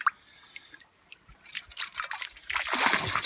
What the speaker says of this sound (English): Little brook there.